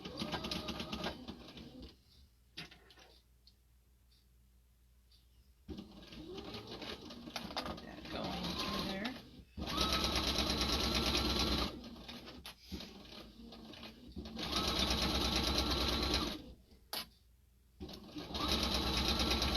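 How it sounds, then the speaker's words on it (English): A sewing machine runs in several bursts while stitching a bag lining along a zipper seam, with quiet pauses between runs and faint bird cooing in the background. "we're just going to follow that stitching line again because we're going to sew this piece on"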